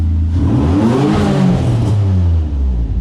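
A turbocharged Nissan 350Z engine revs hard and close up, its pitch climbing and falling in a single sustained rev with a steady loud rumble beneath.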